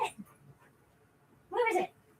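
A dog gives a short, high-pitched whimper while searching for a dropped bone. It is close by, with quieter voices and faint sounds before it.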